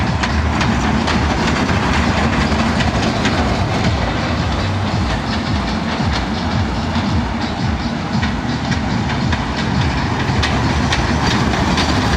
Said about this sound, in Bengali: এখন স্টার্ট হয়ে গেছে ট্রেন চলছে